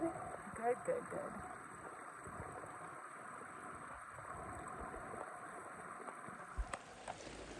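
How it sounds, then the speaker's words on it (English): A mountain creek near Cathedral Lakes in Yosemite flows in a steady, broad rushing wash, with faint voices and a few brief knocks at the start. "This is the creek it makes"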